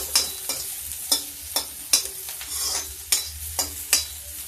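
Chopped ginger frying in a pan for panchmel dal with spinach, crackling sizzle broken by regular clanking stirs of a spoon against the metal, close and fairly loud, no voices.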